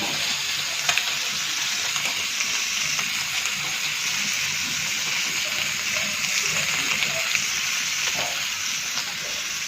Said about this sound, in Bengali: মাছ ফ্রাই করতেছে